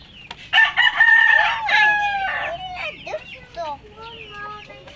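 Chickens and a rooster crowing and clucking in a household setting, loud and close, with calls overlapping for several seconds before trailing into shorter clucks.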